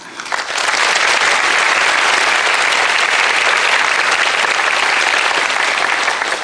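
A large lecture audience of several hundred people bursts into loud, sustained applause that swells quickly and holds steady, with no speech.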